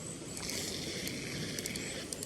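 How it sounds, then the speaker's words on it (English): A lake water flusher releases water, a steady rushing, hissing wash of flowing water close by, continuous and without pauses. "It's the flusher letting the water out."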